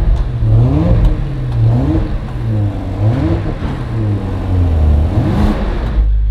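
A Range Rover V engine revs while parked indoors, rising and falling through several loud, smooth throttle blips in close succession over a steady idle hum.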